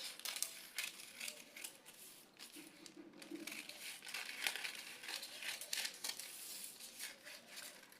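Scissors cut through fabric for a puff sleeve: soft, close crinkling and snipping at a low level, with irregular small cuts and rustles and no talking.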